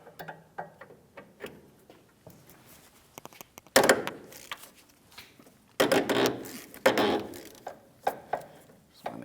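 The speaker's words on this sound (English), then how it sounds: "Now I'm going to be using a socket with an extension so I can remove that fitting." A ratchet socket wrench with an extension loosens a 17 mm power steering hose fitting on a 2003-2008 Toyota Matrix, producing scattered close clicks and two louder bursts of rapid ratcheting.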